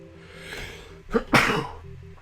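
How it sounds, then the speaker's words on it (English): A single close sneeze, a short breathy build-up followed by a sharp explosive burst, in a quiet room. "Still gonna sneeze."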